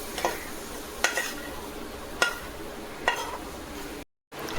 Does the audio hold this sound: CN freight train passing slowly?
no